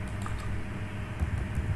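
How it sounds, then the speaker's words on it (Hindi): Rapid, steady clicking of a computer keyboard as someone types, close and fairly even, with no voices. "यहाँ पे मैंने ऐसा टाइप किया"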